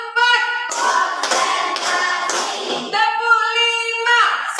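Schoolchildren clap together in a counted group pattern during a counseling session; a run of loud unison claps dominates the first half before a steady tonal voice returns.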